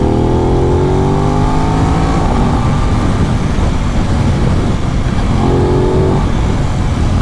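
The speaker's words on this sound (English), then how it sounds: "nice throaty exhaust once you give her the beans" A 2021 Aprilia RS 660 motorcycle accelerates hard from low revs, its throaty exhaust note climbing steadily in pitch and staying loud and close throughout, with a brief drop and another rising pull near the end.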